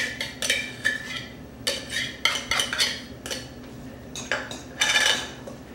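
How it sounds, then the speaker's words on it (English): Drained canned tuna being placed into a bowl, heard as a quick series of close, bright clinks and scrapes of a utensil against the dish in an irregular rhythm. "So I'll place the tuna in my bowl."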